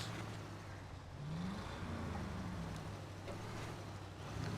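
A battered truck engine in SnowRunner drones at a steady low pitch, with a brief rise in revs partway through. It is soft and constant, with no talking.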